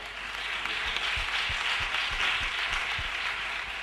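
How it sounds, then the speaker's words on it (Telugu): Audience applause at a church Christmas gathering, a steady wash of clapping from a large crowd, sustained and fairly even for several seconds with low thumps scattered underneath. "వారి కొరకు కూడా ఒకసారి చప్పట్లు కొడదాం."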